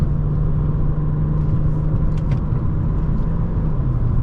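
A 2011 BMW 335i cruising at around 60 mph and about 1800 rpm gives a loud, steady low engine drone with road rumble, continuous and unchanging from inside the cabin, with no voices.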